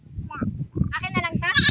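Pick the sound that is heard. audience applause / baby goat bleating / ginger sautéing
baby goat bleating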